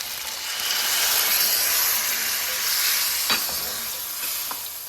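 Tamarind extract poured into a hot pan for pirandai thogayal, setting off a loud hissing sizzle that swells and eases, with a couple of stirring clinks.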